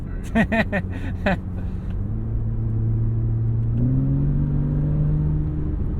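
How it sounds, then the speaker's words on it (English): A 2014 Porsche 911 Carrera S engine drones steadily after a few brief opening bursts, its exhaust and intake note rising slightly in pitch as it holds a cruising speed around 1800 rpm. "I do like that induction noise. You kind of hear the exhaust too."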